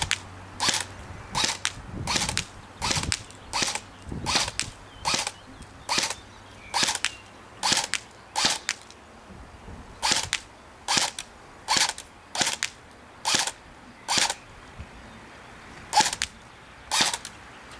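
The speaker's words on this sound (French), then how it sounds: "Je vais tirer une quinzaine de billes si je sais compter jusqu'à 15. Et après en full auto un peu dans le champ" An airsoft M15 rifle firing BBs outdoors over a field, sharp snapping shots spaced about a second apart, about twenty in a steady rhythm, loud and close with no talk.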